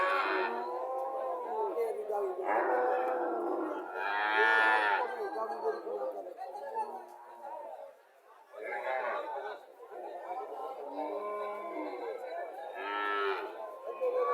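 Cows and calves at a cattle market moo repeatedly in long, loud, close calls, one after another, while people chatter and bargain around them.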